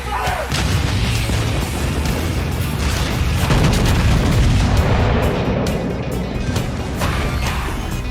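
Naval gunfire in World of Warships: a continuous, dense roar of heavy booms and blasts that stays loud throughout with no pause.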